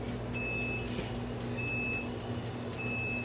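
Laundry machine beeping, three brief high beeps spaced evenly at about one-second intervals, faint beneath a steady low background hum, no speech.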